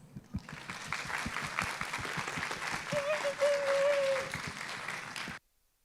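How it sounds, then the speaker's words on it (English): Steady applause from a crowd, sustained for several seconds with sharp individual claps and a brief whistle-like tone, then it cuts off abruptly. "And Jillian and Mariko, please join me in an enthusiastic round of applause"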